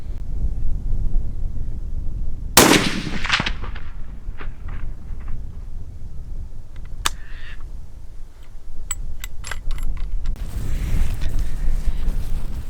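A Christensen Arms 300 PRC rifle at a private outdoor shooting range: one sharp, loud shot early, then a few fainter mechanical clicks and bolt sounds over steady wind noise.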